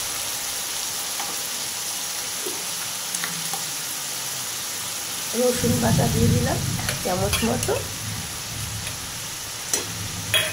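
Onion paste and garlic paste sizzle and fry in a pan for chana masala, with a spoon stirring and scraping through the thick mixture; the frying swells louder midway, and a voice speaks briefly over it.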